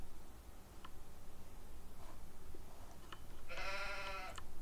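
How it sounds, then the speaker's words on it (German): Sheep in Farming Simulator 19 bleats in one loud, wavering call near the end, with faint earlier bleats and soft background ambience. "Oh, hier lebt sogar noch ein Schaf."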